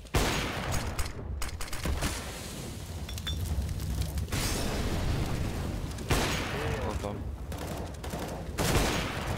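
Counter-Strike gunfire crackles in dense, sustained volleys and rapid bursts, nearly continuous with brief lulls between exchanges.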